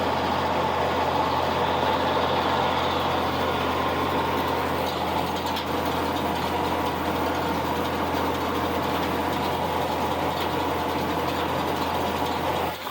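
A tractor pulling a hay rake across a field, turning windrows together, with a steady, loud engine drone and a low rumble that hold constant throughout.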